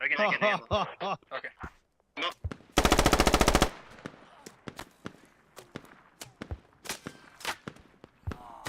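Rapid automatic gunfire from the Rainbow Six Siege video game, a dense burst of about a second, followed by scattered single shots and impacts, with talk at the start.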